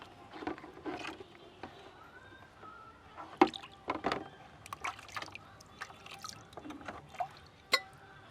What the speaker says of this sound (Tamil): இதுக்கடுத்து அப்படியே எடுத்து ஒரு பக்கெட் தண்ணியில் வந்து முக்கிக்கிறேன்.